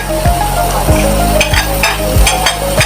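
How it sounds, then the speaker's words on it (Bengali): Chopped carrots go into a pan of onions frying in oil, giving a loud steady sizzle broken by several scraping stirs of a spatula. "এবার দিয়ে দিচ্ছি কিছু গাজর কুচি"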